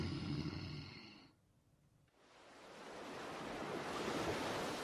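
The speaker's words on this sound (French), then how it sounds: "Il y a de la vague, de la grosse vague, de la déferlante" Ocean surf rolls and crashes in broad noisy swells, briefly easing to a near lull before a big wave breaks and roars loudly for several seconds.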